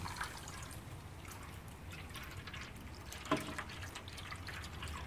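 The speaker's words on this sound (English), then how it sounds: "So I'm going to get that poured right in there." Soda and water trickle steadily into a brisket pan on a STOK grill, a faint, continuous liquid pour with one small splash-like bump partway through.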